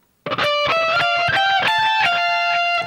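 A short, loud burst of distorted electric guitar plays the next phrase of a solo: rapid picked notes stepping up and down the neck with ringing sustain, heard alone.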